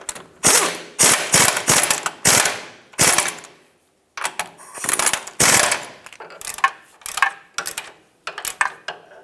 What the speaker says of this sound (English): I'm just going to use my long ratchet